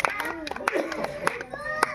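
A handful of scattered claps from a village audience at an outdoor magic show, sparse and uneven beneath someone talking, with children's voices nearby.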